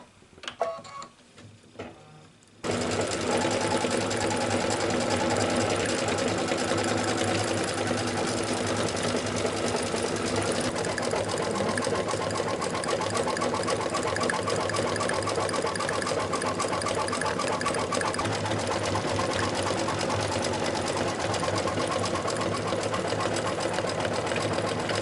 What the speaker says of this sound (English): next I'm running the satin stitches to do the details of the leaf